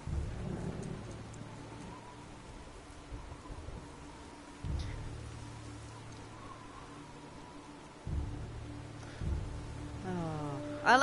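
A thunderstorm in the video game God of War: steady rain hiss with several deep rolling thunder rumbles breaking in at intervals, plus a brief crackling strike near the end.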